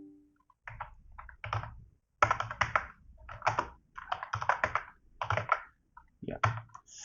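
Computer keyboard typed on in short bursts while entering commands, clustered clicky keystrokes separated by pauses, close and fairly quiet, with no talking.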